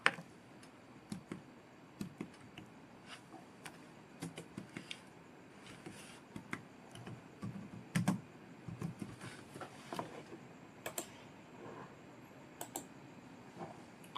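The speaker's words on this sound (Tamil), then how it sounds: "ஃபுல் நேம் டைப் பண்ணிட்டேன்" Keys on a computer keyboard are typed in irregular bursts of light clicks close by, with brief pauses between strokes and a few sharper taps.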